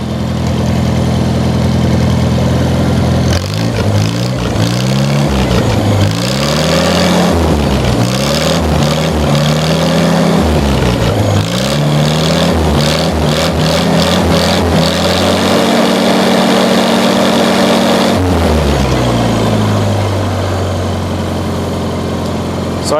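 A 1953 Farmall Cub tractor engine, neglected for two years, runs steadily up close with a loud, throbbing idle and repeated rising and falling revs as the throttle is worked.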